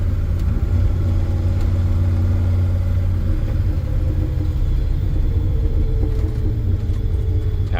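A 1986 GMC CK 3500 dually pickup with a 454 V8 cruising in second gear on a bumpy road, its engine a steady low rumble and drone heard from inside the cab, with no voices.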